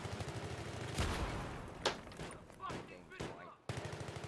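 A video game grenade going off on the Grand Bazaar map: a sharp, loud burst near the one-second mark, followed by further bangs and crackling gunfire in busy game noise.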